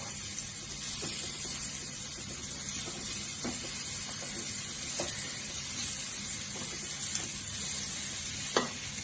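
Ash gourd slices frying in oil in a pan, a continuous soft hiss with faint occasional clicks of stirring, close and fairly even, with no voices.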